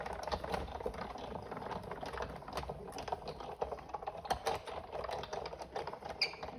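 A Sizzix Big Shot die-cutting machine is cranked by hand, giving a quiet, fast ticking and clattering rattle that runs steadily throughout.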